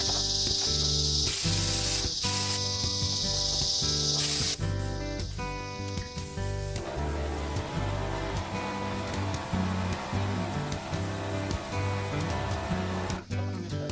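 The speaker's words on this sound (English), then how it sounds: "I'm about to spray the top of the larger cabinet" A spray gun applies General Finishes Exterior 450 finish to the top of a large cabinet. It makes a steady, loud, continuous hiss that runs nearly unbroken with brief pauses and no talking.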